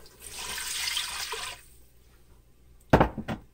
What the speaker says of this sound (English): You notice I'm just adding plain water.